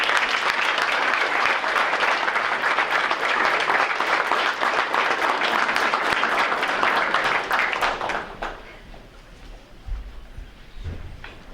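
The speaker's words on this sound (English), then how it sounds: "we want the students and the board and the administration to give you a big thank you and applause" Big round of applause from students, board members and administrators at a school board meeting, loud dense clapping filling a warm room for about eight seconds before fading out into quieter room noise.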